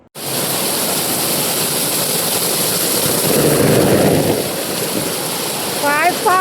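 Heavy rain pours in a dense, even roar that holds loud and unbroken throughout, with a brief voice rising over it at the end.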